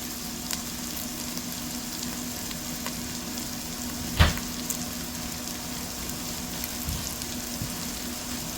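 Minced garlic and onions frying in bacon grease for turkey tetrazzini soup, a soft continuous sizzle with one sharp clank of a utensil partway through and a few quieter knocks, no talking.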